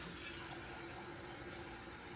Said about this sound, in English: So I'm just going to add in